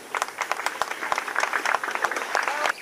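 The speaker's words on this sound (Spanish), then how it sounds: "I voldríem dedicar un aplaudiment a la Maria José Arango" Audience at a town festival dinner for Sant Isidre in Masquefa gives a moderate round of applause, a steady patter of many hands clapping nearby for a few seconds before it cuts off.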